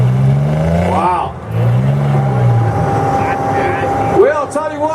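A truck engine revving hard at a mud bog, with repeated rising and falling roars and bursts of acceleration, while people nearby shout and talk loudly over it.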